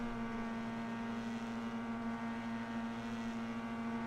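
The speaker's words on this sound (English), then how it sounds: "revving up the car." A Formula 4 race car sits on the starting grid at Mugello, its engine held at a steady, buzzing pitch as the start lights come on, heard continuously with no other sounds.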